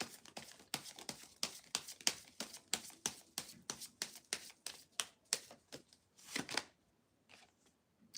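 A tarot deck is shuffled by hand in rapid, crisp riffling bursts, about twenty quick close-up flicks in a steady rhythm, then a pause and a few softer final taps, with no talking.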